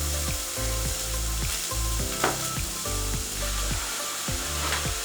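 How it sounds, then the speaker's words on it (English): Shallots frying in a hot pan, giving a steady close sizzle with a crackling texture and repeated scraping strokes as they are stirred, with no voices. "So they're sizzling away nicely."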